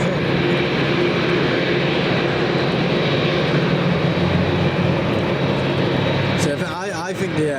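A Singapore Airlines airliner at Manchester Airport spools up its engine, giving a loud, continuous roar with a rising whine heard from outdoors. Wind buffets the microphone toward the end while people talk nearby.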